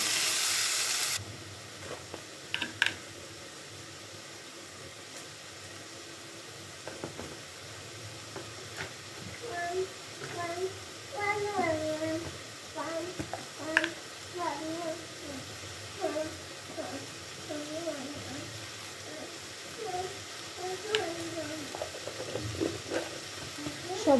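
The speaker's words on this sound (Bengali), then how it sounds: "আমি এই পর্যায়ে দিয়ে দেব জিরা বাটা, আদা রসুন বাটা দিয়ে আবার হালকা একটু ভেজে নেব" Cumin, ginger and garlic paste frying with softened onions in a pan for chicken khichuri, a low steady sizzle with occasional stirring scrapes, someone talking over it through most of the stretch.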